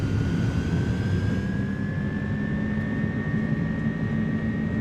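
Steady, loud roar of iniBuilds A300 jet engines spooling to takeoff power in MSFS2024, a broad continuous rumble with a rising whine layered on top, holding even throughout with no talking.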